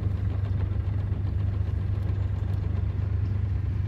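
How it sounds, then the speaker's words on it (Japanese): A Yamaha FISH-15 boat's engine runs at low revs, giving a steady, even low hum with no change in pitch and no voices. "少しエンジンを回してみましたが、とても静かで順調です。"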